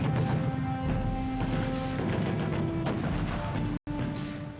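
Artillery and gunfire at the Gold Beach landing, a dense, loud wash of blasts and crashes with a few sharp impacts standing out, broken by one brief dropout near the end, with no voices.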